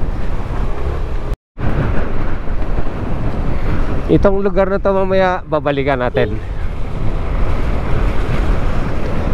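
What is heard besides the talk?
strong waves and wind during Typhoon Tino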